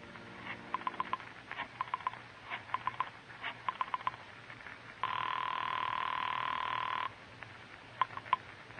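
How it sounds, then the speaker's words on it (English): An old-time radio mystery drama's telephone: a series of short, rhythmic ring bursts, then one long steady ring lasting about two seconds and a final quick ring, all fairly clear against a quiet background. "Once you reach your apartment, you dial Julie's private phone at the club"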